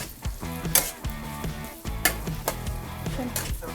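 Steady sizzling from a home-cooked sauté in a pan, with occasional clinks and scrapes of a utensil stirring against the metal, fairly quiet and close, with no voices.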